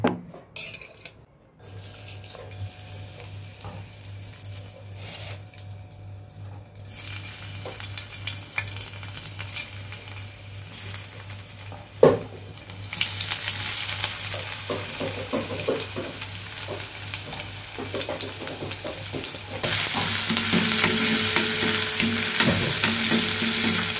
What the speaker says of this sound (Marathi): कांदा वगैरे चांगला असं ब्राऊन झाला पाहिजे तोपर्यंत थोडा फ्राय करायचा आहे.